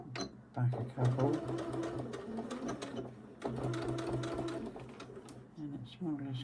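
A sewing machine stitches slowly through a thick quilted fabric seam on a small quilted pot, giving a close, steady mechanical whir in two runs separated by a brief pause, with a voice talking over it.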